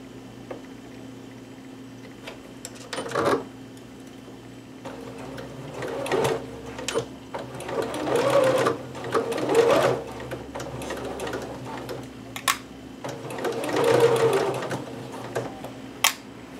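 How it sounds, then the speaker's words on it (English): A sewing machine runs in bursts, stitching a permanent seam on a Butterick 6322 pattern garment, with short pauses and handling noises between runs; close and fairly loud, with no talk. "I am just going to go ahead and stitch this because I feel pretty comfortable with going ahead and doing a permanent stitch on this"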